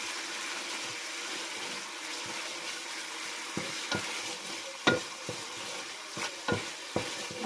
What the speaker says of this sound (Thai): เคี่ยวกะทิก่อนนะ เคี่ยวกะทิให้